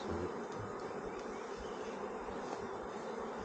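Honey bees hum in a steady, faint drone at a homestead beehive, a continuous buzzing that fills the clip without any voices.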